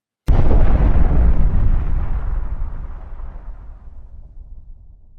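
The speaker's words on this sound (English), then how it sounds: "The mid-20th century brought us the Manhattan Project and the deadly atomic and hydrogen" A huge atomic bomb detonation: one sudden loud blast that rolls into a long, deep rumble and slowly fades over several seconds, with no voices.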